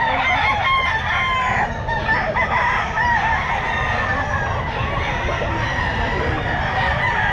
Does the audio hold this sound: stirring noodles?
no